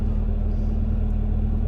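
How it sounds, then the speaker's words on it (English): A car engine rumbling steadily in -18 wind chill cold, a loud, even low drone heard from close by with no pauses. "Can you hear how much my car doesn't like this?"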